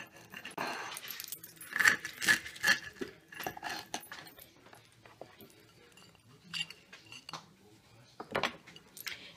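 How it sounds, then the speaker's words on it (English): A knife and fork cutting into a vegan potato pancake made from shredded potatoes, giving light clinks and scrapes of cutlery on a plate in scattered bursts, fairly close, with no speech. "So I'm going to cut a piece here."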